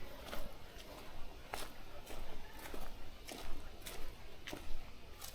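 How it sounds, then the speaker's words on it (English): Short trilling calls of gray tree frogs repeating every half second or so in a quiet southern Ontario forest, fairly close, with a light background hiss. "We're hearing a bit of tree frog sounds."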